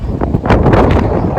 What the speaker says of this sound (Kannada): ಏನು ಹೆವಿ ಗಾಳಿ ಗಾಳಿ ಗಾಳಿ ಗಾಳಿ.